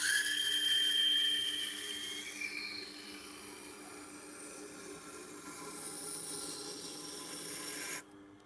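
A chef knife scrapes across a 1000 grit whetstone in steady, close strokes, a soft gritty rasp that fades gradually before stopping abruptly.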